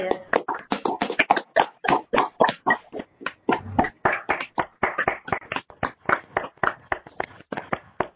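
Applause from an online conference audience with microphones switched on: a long run of dry, close individual claps, uneven and unsynchronised, continuing steadily without talk.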